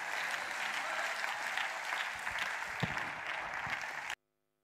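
A church congregation gives the Lord a sustained burst of dense applause at a steady level, which cuts off abruptly near the end.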